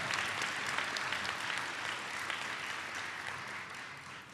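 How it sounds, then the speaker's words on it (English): Audience applause at a university school of public health hooding ceremony, a steady dense wash of clapping from a large crowd that holds evenly throughout and tapers only slightly at the end. "Let's give her a round of applause."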